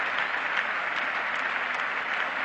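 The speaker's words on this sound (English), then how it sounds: "Been applauded all the way in by the England team" Crowd at a 1976 England versus West Indies test cricket match applauding a West Indian batsman, a dense continuous roar of clapping, loud and even throughout.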